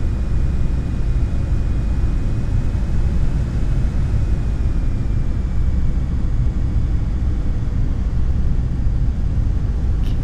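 A Douglas World Cruiser aircraft engine in a flight simulator drones loudly and steadily throughout, a constant low rumble with no pauses.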